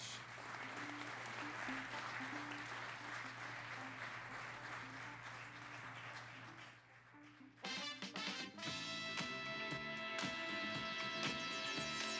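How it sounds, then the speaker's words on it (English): Applause at the Global Climate Award ceremony in Aberdeen, a steady, dense round of clapping from the audience for about seven seconds, then fading as music with a clear melody and beat takes over. "let's give them a nice round of applause"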